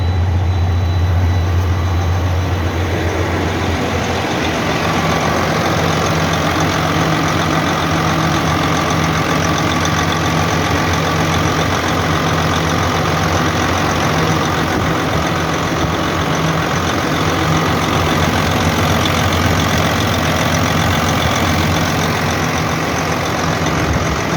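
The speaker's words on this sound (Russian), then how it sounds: "Мотор нормально работает вообще." A 2004 Freightliner truck engine idles steadily after repair, a loud continuous low rumble with an even drone and no talk, running unchanged for over twenty seconds.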